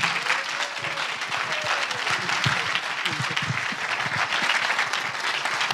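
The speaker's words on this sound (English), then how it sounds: "keep clapping" A congregation or audience claps steadily and loudly, a continuous dense roar of applause with no break, heard up close and filling the whole stretch.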